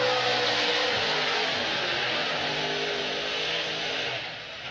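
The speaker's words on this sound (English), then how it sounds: "Take a listen to this wound up, pissed off, three-wheel motion, Ford Mustang, Vaughn Gittin Jr." Wound-up Ford Mustang drift car at a Formula Drift competition in Long Beach, heard as a loud, sustained engine roar with crowd-like broadband noise, holding steady before easing off near the end.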